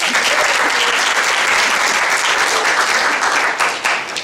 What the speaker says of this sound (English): So a round of applause, please, for Wendy Whitehurst.